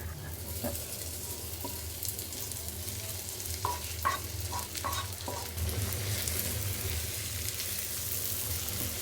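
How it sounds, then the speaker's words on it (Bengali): Rice is fried with spices in a pan for a shrimp and egg biryani, giving a steady low sizzle with intermittent scraping and clinking from the stirring spoon. "চাল ভাজতে হবে"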